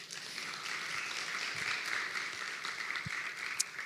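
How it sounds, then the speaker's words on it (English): Audience applause for a woman at a community gathering, a steady mid-distance wash of many hands clapping that holds evenly throughout with no voices over it. "she deserves a huge round of applause"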